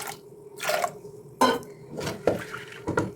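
Water splashes and drips into a pressure cooker holding cowpeas with salt and chilli powder, arriving in several short bursts of pouring with faint metallic clinks of the pot between them.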